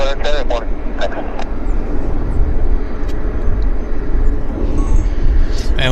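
A United Airlines A320 inbound from Denver lands at Vancouver airport, a steady loud roar of jet engines and wind rumble filling the scene while voices talk over it.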